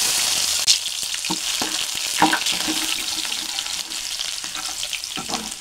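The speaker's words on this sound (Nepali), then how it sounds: "यसलाई पनि एकछिन फ्राई हुन दिन्छु।" Chopped ginger and garlic sizzle and fry in a pan for a Nepali-style paneer curry, a steady crackling hiss with occasional clinks and stirring sounds, close and continuous with no talking.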